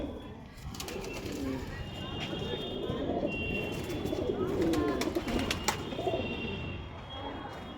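Pigeons in a loft of old-line breeding birds coo in low, soft murmurs under steady background rustle, with someone speaking nearby.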